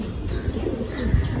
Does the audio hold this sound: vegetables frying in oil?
no